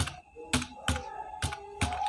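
Keys tapped on a computer keyboard while the word doctor is typed in English, five distinct close clacks at an uneven pace with a low background hum and no talking.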